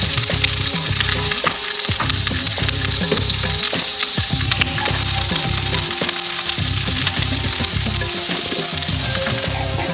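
Paprika sizzles and crackles steadily in hot oil for a Moroccan fish dish, with rhythmic stirring pulses and no voices.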